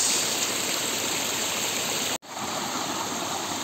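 A small waterfall on a mountain trail rushes steadily and close, a broad constant roar of falling water that cuts out for an instant before resuming.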